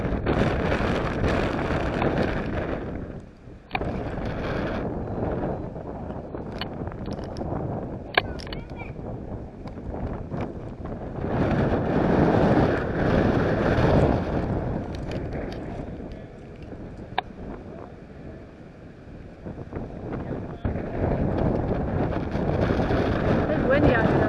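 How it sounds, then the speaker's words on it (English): Wind blows across an outdoor walking trail, a steady rumbling buffet against the microphone that swells and eases in gusts, loud and close throughout. "It's windy out here though."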